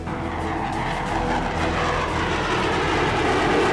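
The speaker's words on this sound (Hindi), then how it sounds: "यह सुरमई रंग का विमान इजराइल का F-15 फाइटर जेट है।" An Israeli F-15 fighter jet flies with a loud, continuous roar of jet noise that holds steady and builds slightly, with no voices over it.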